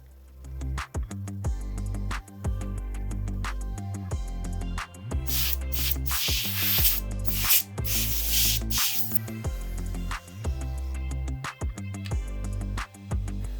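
Dust is blown and cleaned from the pins of a vintage 550 MHz CPU in repeated hissing bursts, some short and some long, loudest through the middle, with no talk.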